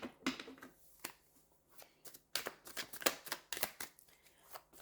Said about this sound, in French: on commence par tirer une première carte